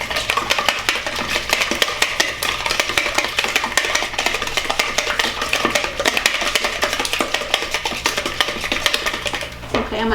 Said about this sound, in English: Whisk them up.